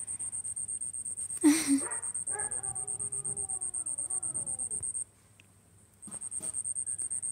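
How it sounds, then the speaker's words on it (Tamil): A dog lets out a long, wavering howl at a distance, rising and falling for a few seconds over steady, rhythmic cricket chirping at night. "அக்கா நாய் சவுண்டு வருது"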